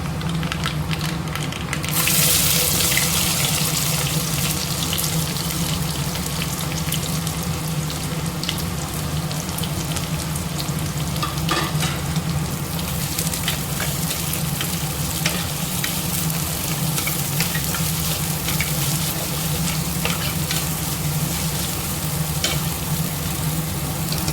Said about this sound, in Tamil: வெங்காயம் பூண்டு நல்லா வதங்கிடுச்சு